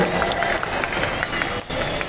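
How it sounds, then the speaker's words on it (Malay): An audience at a children's nasyid competition in Negeri Sembilan gives the judges a short round of applause, a dense continuous patter of many clapping hands. "Tepukan juri"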